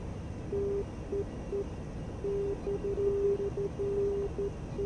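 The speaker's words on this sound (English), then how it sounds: "I'm getting both the old and now the new Morse code signal coming through" Morse code tones in the DCS F-86F Sabre flight simulator, sounding as a steady medium-pitched beeping in irregular short and long dashes, moderately loud over a low background hum, with no talking.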